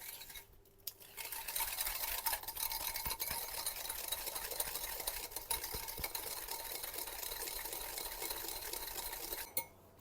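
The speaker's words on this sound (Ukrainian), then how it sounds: "Так, буду їх файно взбивати." Egg yolks being whisked with sugar and vanilla sugar in a bowl, a fast continuous rhythmic beating and scraping at moderate distance, alone without talk.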